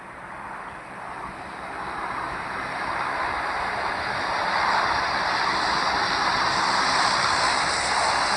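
A steady, broad engine drone like a propeller plane in a video game, rising slightly and holding at a constant roar throughout, with no talking.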